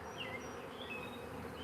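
Honeybees buzz steadily during a hive inspection, a dense continuous drone with a few individual bees whining past close by, moderately quiet and with no talking.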